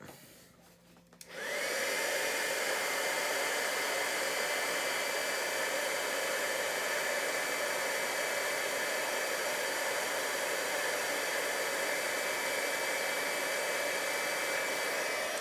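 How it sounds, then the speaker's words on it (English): A heat gun melts gold embossing powder during card-making. The blower switches on after about a second and keeps a loud, steady whooshing roar up close for the rest of the time. "Be careful with your heat gun because it does get very warm"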